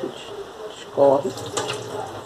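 Tap water runs over sururu mussels being rinsed in a kitchen sink, a steady, close splashing stream with a brief louder gush partway through.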